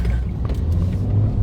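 Cars rush by on a motorway near a slip road, a steady heavy low rumble of fast traffic filling the whole stretch with no voices.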